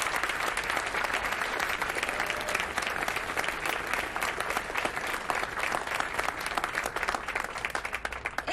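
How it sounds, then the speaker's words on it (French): Audience applause at a commemoration ceremony for the abolition of slavery, greeting school dance prize winners: dense, steady clapping from a crowd, loud and continuous for the whole stretch with no pauses. "Allez-y, vous pouvez les applaudir."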